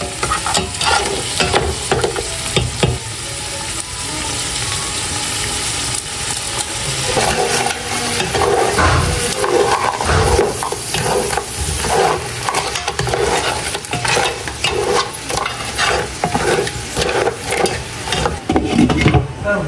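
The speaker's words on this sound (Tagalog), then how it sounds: "Lulutuin ko lang po muna itong alimango." Crabs sizzle and fry in a pan while being stirred, with a steady hiss broken by repeated scraping and clattering strokes, loud and close.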